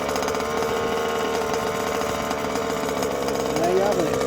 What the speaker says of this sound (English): That's how you start a Dragon Hammer.